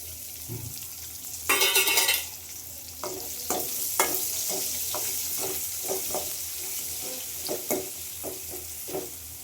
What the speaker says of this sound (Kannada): ಇವಾಗ ಈರುಳ್ಳಿ ಹಾಕ್ತೀನಿ ನೋಡಿ.